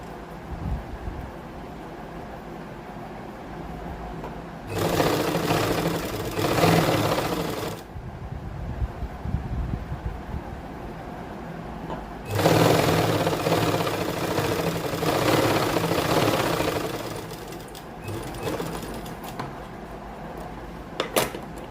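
A sewing machine stitches a folded fabric strip onto a suit's side slit, running in two sustained mechanical bursts of steady whirring with quieter pauses between them.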